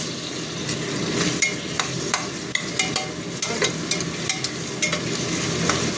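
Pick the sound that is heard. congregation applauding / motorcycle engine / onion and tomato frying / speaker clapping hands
onion and tomato frying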